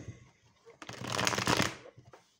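Playing cards being shuffled and drawn during a card reading, a brief soft riffle building to a quick burst of rustling and then settling, fairly close and quiet.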